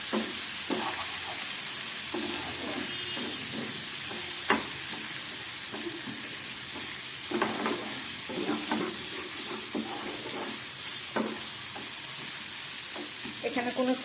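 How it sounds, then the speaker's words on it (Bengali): Pomfret fish masala sizzling and frying in a pan while being stirred and sautéed, a steady hiss broken by scraping spatula strokes and soft clatters, close and continuous. "খুব ভালো করে এবার আমি এটাকে কষিয়ে দিচ্ছি।"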